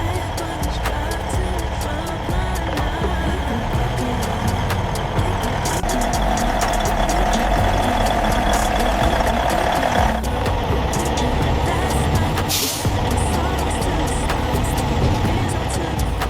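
A restored 1980s Peterbilt 379 semi truck pulls away with a dense, continuous engine roar and road noise, punctuated by clicks and a brief hiss.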